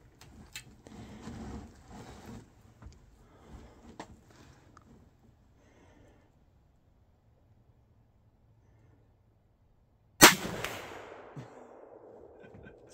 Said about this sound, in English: shooting the Remington 5mm